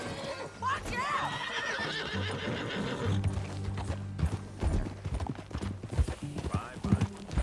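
A horse in Red Dead Redemption 2 neighs loudly up close near the start, then its hooves clop in a steady run, while voices talk and game music plays underneath.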